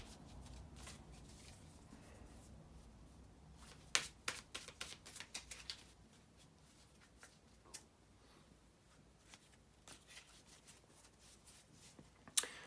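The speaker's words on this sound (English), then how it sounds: "bear with me a second, guys, to shuffle the tarot cards" Repeated crisp riffles and soft flicks of tarot cards being shuffled by hand, close by, in short bursts with quiet pauses between.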